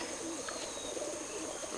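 A released pigeon coos softly over steady, even background noise, a brief low call with no talk.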